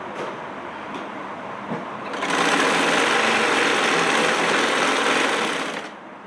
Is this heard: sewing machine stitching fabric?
yes